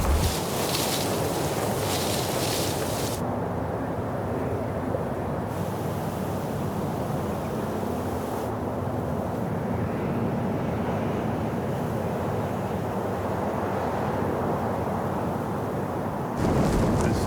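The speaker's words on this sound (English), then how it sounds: "this wind is gonna be brutal for shooting" Strong mountain wind in the Caucasus Mountains roars and buffets the microphone continuously, a loud, dense rumble with gusty shifts in intensity throughout.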